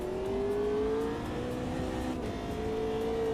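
Race car engine in the Automobilista 2 racing game, a steady loud drone with a rising pitch sweep as the car accelerates, alone without talk.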